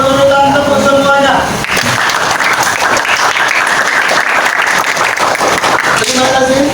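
Classroom groups of students clap in turn on a teacher's cue, producing a loud, dense burst of rhythmic applause that fills most of the stretch, with a teacher's speaking voice before and after.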